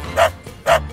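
A dog in Minecraft gives two short, sharp barks about half a second apart, loud and close, with nothing else around them.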